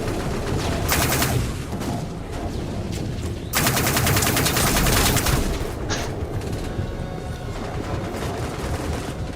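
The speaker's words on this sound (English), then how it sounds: "you gotta love a shotgun to the back as well" Gunfire from the Dust 514 shooter game, including a shotgun blast, rattles in dense bursts of rapid shots and booms, with loud clusters of fire over a constant battle din.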